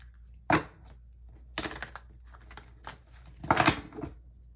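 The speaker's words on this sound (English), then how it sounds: "Let me shuffle one more time." Tarot cards being shuffled by hand come through as several short, crisp papery bursts at irregular intervals, close and moderately loud, with quiet gaps between the riffles.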